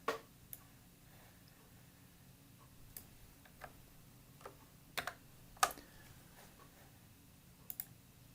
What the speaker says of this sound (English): I'm going to use my keyboard shortcut, Command-Shift-T